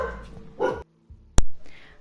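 A dog barks a few short, sharp times nearby during a Vampyr game session, with a loud single yelp standing out, amid quiet background noise.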